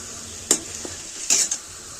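Pav bhaji vegetables are sautéed in a pan, with a soft background sizzle broken by two or three quick bright scrapes of a spoon against the metal, close and brief.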